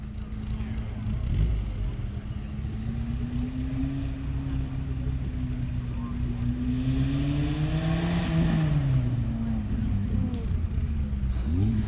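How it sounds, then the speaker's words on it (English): The engine of a 1966 MG Midget drones steadily in too high a gear, its low labouring note rising and falling slightly without picking up, under continuous talk from people inside the car. "That's too high of a gear, it's just gonna bog."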